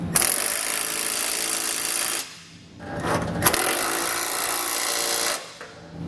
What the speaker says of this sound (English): now we can grab an 11/16 socket and snug everything down